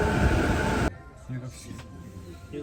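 A train at a Tokyo station on the JR Chuo line gives a loud, close rumble that stops abruptly after under a second, leaving quieter station ambience with a voice speaking.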